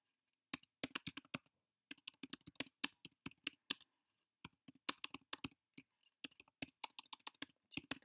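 Someone types an article on a computer keyboard in close, crisp bursts of key clicks. Short pauses break the typing between bursts, and the background is otherwise quiet.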